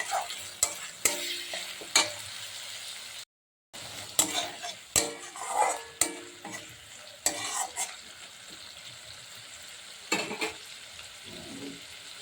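Spices fried in oil in a pan for Bengali dahi fish, with Kashmiri chili powder and slit green chilies, as a spoon stirs and scrapes in sharp irregular clicks over a soft, steady sizzle close by.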